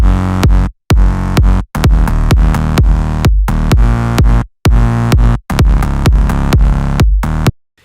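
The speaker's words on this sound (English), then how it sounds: "Notice that this kick and this bass are not mixed yet. They sound horrible," Unmixed EDM loop where a punchy kick drum and heavy bass clash, loud and dense with muddy low end, thumping in a steady pattern broken by several short silent gaps, no voices.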